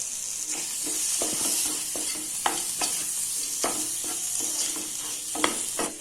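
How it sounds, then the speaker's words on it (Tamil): Tomatoes, rock salt and masala sauté in a pan on low heat for an egg pepper gravy, a steady sizzle under repeated sharp scrapes and taps of a stirring spoon, close and alone. "இது போட்டு நல்லா வதக்கிக்கலாம்."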